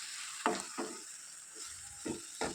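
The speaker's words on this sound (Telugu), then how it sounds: "ఒకసారి కలుపుదాం వంకాయ కర్రీని" Brinjal curry being stirred in a pan, heard as five soft, separate scraping strokes over a faint, quiet sizzle, with short pauses between the strokes.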